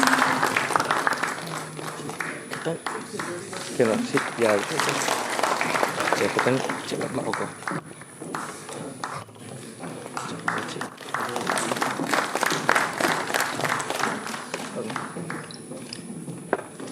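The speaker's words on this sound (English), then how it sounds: "I request everyone to please give a big round of applause for our state icons" At a National Voters' Day celebration in Manipur, an audience claps for the state icons, with a long stretch of scattered and rhythmic clapping mixed with voices and hall noise, fading and swelling over time.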